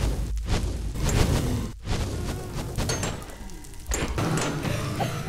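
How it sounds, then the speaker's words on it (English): Minecraft wind blasts and explosions boom and whoosh in heavy bursts, with sharp thuds near two seconds and four seconds amid a loud, dense game roar. "Big wind and explosions."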